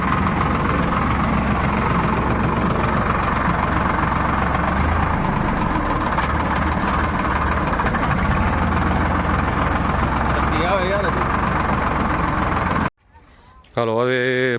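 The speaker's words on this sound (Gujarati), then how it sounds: "વિશાલનું ટ્રેક્ટર મૂકવા જવાનું." A farm tractor in a Kutch village idles with a loud, steady, low rumble for several seconds before it cuts off abruptly. Faint voices follow.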